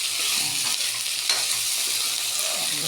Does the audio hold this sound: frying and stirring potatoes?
yes